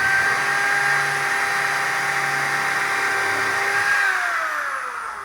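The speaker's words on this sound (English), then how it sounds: "And just drill a couple of holes." A power drill spins a 1/8 inch bit through clamped wood, boring pilot holes for a crate; a steady high whine holds, then slows and winds down near the end.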